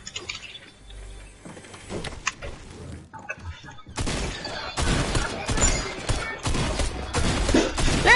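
Shotgun blasts in a video game ring out as sharp, loud bursts in rapid succession after a quieter stretch of clicks and game noise, close and punchy with little talk over them.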